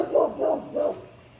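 A neighbor's dog barks three times in a steady rhythm, moderately loud and a little distant, in a backyard garden with no talk over it.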